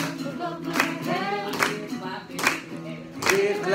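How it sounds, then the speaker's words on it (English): An audience claps along in rhythm to the gospel song "Up Above My Head," and the beats ring out over singing. "Hear clapping in the air."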